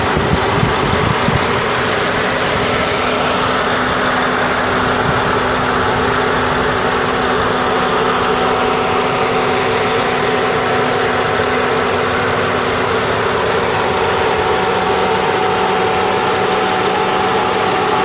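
A 2006 Honda Odyssey minivan engine idles steadily with the air conditioning on, a constant low hum and a faint whirring fan running throughout, close by, with no talking.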